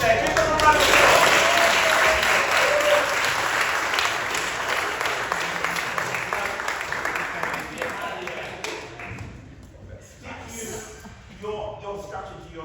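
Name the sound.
round of applause for workshop performers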